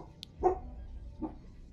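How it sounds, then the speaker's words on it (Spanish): A small dog barks at a window, giving two short, fairly faint barks about a second apart over quiet room noise. "Mi perrita está mirando por la ventana mientras se desladra."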